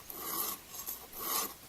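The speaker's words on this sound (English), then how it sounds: "I resharpened an original crosscut chain to 10 degrees using my improvised" A file rasps across the teeth of an original crosscut chainsaw chain being sharpened to 10 degrees, held in an improvised stump vise; two slow, bright strokes, close and moderately loud.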